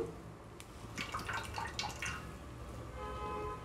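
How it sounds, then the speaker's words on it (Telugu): Coconut milk drips and trickles steadily through a strainer, with soft splashing into a container below and no voices. "ఇలా నేను రెండోసారి కూడా కొబ్బరి పాలని ఫిల్టర్ చేసుకుంటున్నాను"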